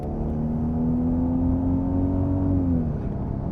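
A Toyota Supra mk4 biturbo engine revs hard and loud under throttle, its droning tone climbing steadily before dropping off abruptly near the end.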